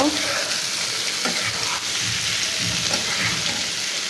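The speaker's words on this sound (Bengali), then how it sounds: "এর মধ্যে কুমড় ধুয়ে রেখেছিলাম সেটাই দিয়ে দেবো দিয়ে একটু নাড়াচাড়া করে নেব" Pumpkin pieces frying with onions in a pan, a steady loud sizzle with scraping stir strokes throughout and no voices.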